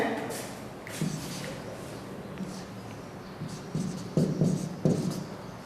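Pen or chalk writing out Sanskrit time expressions, with soft scratching strokes and a few sharper taps, faint under a quiet room.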